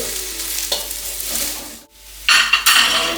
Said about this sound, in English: We will saute little bit all the vegetables